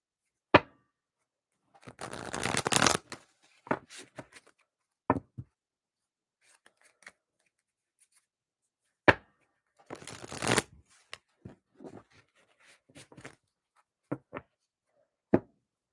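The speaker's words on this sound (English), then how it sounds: "I'm going to get my decks shuffled up here." Decks of reading cards are shuffled by hand, two bursts of riffling, each lasting about a second, with sharp taps and knocks of the cards squared against a table in between, close and clear against silence.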